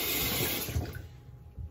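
Tap water runs briefly over an old eyebrow brush, a close hissing splash that fades out after about a second, followed by faint handling sounds.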